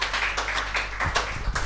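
Short burst of rhythmic clapping from a small online church service gathering, a few quick claps close to the microphone over a low background hum.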